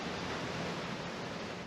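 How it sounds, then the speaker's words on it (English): Wind-driven waves on a lake during windy, rainy camping weather, heard as a steady, dense wash of water and wind noise with no talking. "The waves on the lake are kind of big."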